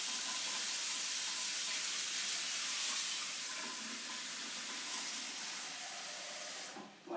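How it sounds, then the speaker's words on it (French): Cold water running steadily into a large saucepan, a continuous hissing pour that stays even and close for several seconds before tapering off near the end. "je mets un petit fond d'eau froide"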